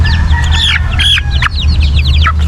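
A rooster clucks in quick, close bursts over a steady low hum, the calls bright and choppy, some rising into short squawks.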